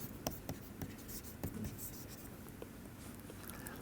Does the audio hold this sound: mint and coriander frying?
no